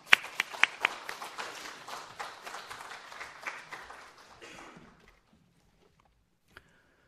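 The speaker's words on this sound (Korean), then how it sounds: "박수로 환영하겠습니다." A church congregation at a Sunday service claps in welcome, with sharp individual claps up front. The applause thins and fades out after about five seconds, leaving near silence and one late tap.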